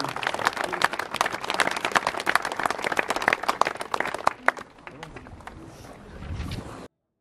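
Crowd applauding the unveiling of a memorial stone honouring prisoners at an outdoor commemoration; dense clapping for about four seconds, then thinning into scattered claps and murmured voices before fading.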